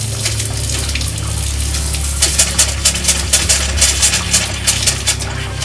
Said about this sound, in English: That's just air in the system